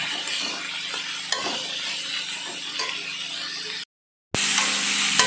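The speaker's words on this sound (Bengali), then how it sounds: "নেড়ে মেরে একটু ভাজা ভাজা করে নিচ্ছি" Carrot and green chili vegetables stir-frying in a pan for a cottage-cheese (chhana) dish, with a steady close sizzle and scraping stir strokes, a brief silence, then the frying resumes loud.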